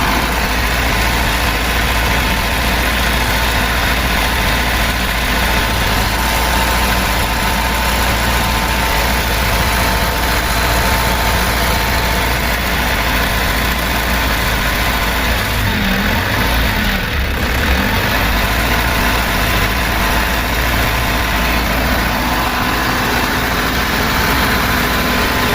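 Isuzu 42 kVA silent diesel generator running under a load of about 12 amps, 5.5 kW, with engine speed sagging; a loud, steady close-up drone with a constant low hum throughout and no talk.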